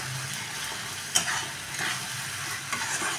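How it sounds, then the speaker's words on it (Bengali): Spice masala with ground potato paste sautéing for rajma, a steady close sizzle with occasional scraping stirs of a spatula in the pan. "আলু বাটা দিয়ে একটুখানি কষিয়ে নিলাম"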